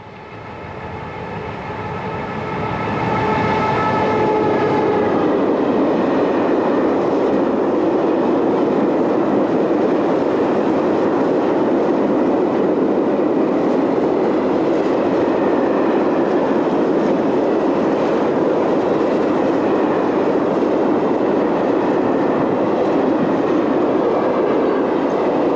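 An SNCF BB12000 electric locomotive, number 12125, hauls a freight train through a closed station, building from a distant approach to a loud, sustained roar of rolling wagons with rhythmic wheel clatter and a brief horn-like tone early on.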